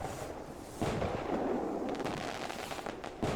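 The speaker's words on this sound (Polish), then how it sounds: "Bardzo ładne fajerwerki." Fireworks bursting in the Fireworks Simulator: Realistic video game, a series of muffled booms and crackling bangs over a dense rumbling wash, moderately faint and with no talk.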